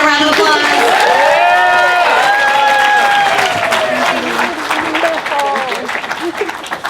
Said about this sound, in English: let's give Marissa a round of applause.